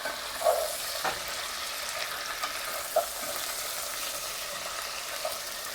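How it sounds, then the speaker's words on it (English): Baby bok choy sizzles steadily in a hot pan, a close, moderate crackle with occasional soft knocks and scrapes as it is stirred. "We're going to put in the bok choy. And it's really starting to cook now. You can hear that."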